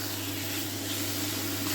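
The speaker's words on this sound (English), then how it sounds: "So we're just going to brown this chicken off." Chicken pieces browning in a hot pan give off a steady, even sizzle and hiss that stays constant and close, with no voices over it.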